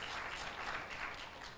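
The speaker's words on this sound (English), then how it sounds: "please, a round of applause for Beyond Bank" A room of attendees at a pitch event applauds for a bank sponsor, a soft, distant, even wash of clapping lasting a moment.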